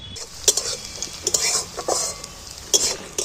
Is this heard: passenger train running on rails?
no